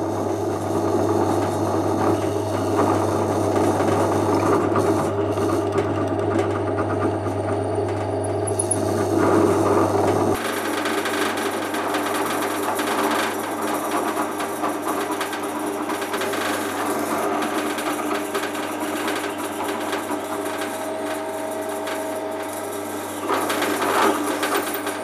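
Depth holes are being drilled into the wooden body of a Rickenbacker 620/12 guitar build. A steady mechanical whirring hum runs close and continuous, changes character partway through, and shows faint scraping and clicking on top.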